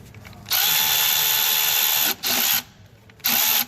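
Three bursts of a high, buzzing quarter-inch drive power tool tightening a bolt while replacing a starter on a Ford 6.4 diesel truck, a long run followed by two short ones, loud and close with brief pauses.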